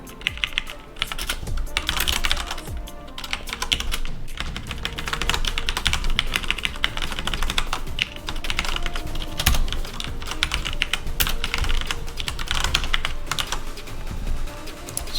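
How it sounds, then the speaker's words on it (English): Typing on a computer keyboard while coding, a fast, steady stream of close, crisp key clicks with brief pauses, continuous and alone with no voices. "I'm hitting so many wrong keys here."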